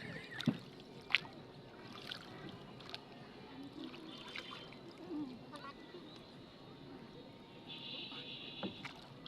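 A small boat moves across a pond, with gentle water trickles and occasional knocks of oars or wood. Quiet speech can be heard faintly in the background.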